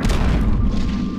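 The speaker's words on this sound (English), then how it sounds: "Oh, he's gonna explode." An enemy explodes in the video game Eternal Darkness with a short, heavy boom and a deep rumbling thud that fades over about a second.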